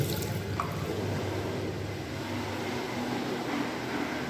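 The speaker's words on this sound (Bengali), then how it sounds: "বেসিন কল জল জল পড়ছে" Water runs steadily from a basin tap in a holiday home bathroom, a continuous close splashing flow with no talk.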